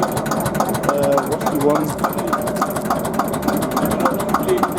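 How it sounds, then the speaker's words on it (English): An Allgäuer diesel tractor engine idles at a classic car show, a steady rapid mid-pitched chug close by, with someone talking over it throughout. "This here is an Allgäuer diesel."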